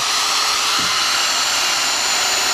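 A power drill whines steadily and loudly, grinding continuously into hard steel with poor drill bits, a harsh, high-pitched sustained tone and no talking.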